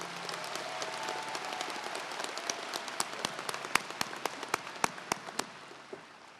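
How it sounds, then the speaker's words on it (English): Audience at the Norview High School 2016 graduation giving a round of applause for staff and board members, a steady wash of clapping with distinct nearby claps standing out, fading toward the end. "Please join me in a round of applause for all of them who have joined us this afternoon."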